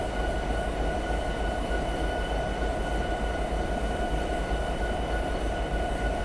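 A train in Train Simulator 2020 rolling along at very slow speed, a steady low rumble with a constant mechanical hum and no distinct wheel clicks, continuous and fairly loud with no talking.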